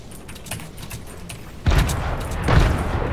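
Grenade blasts and gunfire in a shooter video game, with a couple of heavy booming bursts landing over a steady crackle of shots, close and loud.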